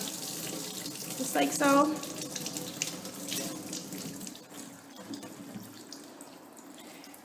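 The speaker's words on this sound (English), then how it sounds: "And I get a little soap, and then what I do, I just wash them." Rubber stamps being washed with a little soap under a running faucet, with a steady splashing stream into a sink throughout and a brief louder splash near the start; someone talks briefly over the water.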